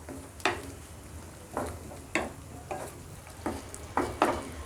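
Chicken mandi mixture being stirred in a pan, about eight distinct scraping strokes of a spoon against the metal at an uneven rhythm over a faint background sizzle, quiet and close.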